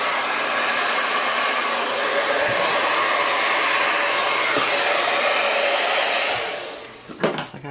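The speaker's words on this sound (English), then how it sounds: "The old trusty hair dryer." A hair dryer blows steadily and loudly at close range, drying poured paint, then cuts off near the end, followed by a few clicks and handling sounds.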